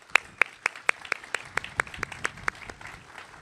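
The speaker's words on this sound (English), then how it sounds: "Let's give them a round of applause." Applause for Vietnam veterans at a National Vietnam War Veterans Day ceremony, heard as a sparse run of sharp, evenly spaced claps, about a dozen distinct hits that soften toward the end.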